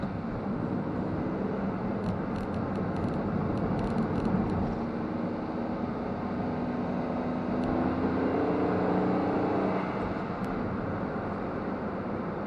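Honda S660 on a coastal road in traffic, a continuous broad rumble of engine and road noise holding steady, with a faint rising engine tone partway through.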